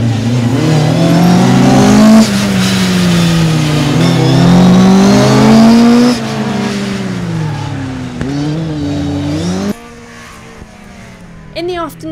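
Rally cars racing hard on a drying stage rally track, engines revving loudly and rising and falling in pitch as they accelerate past close by, with a brief quieter gap before more engine noise.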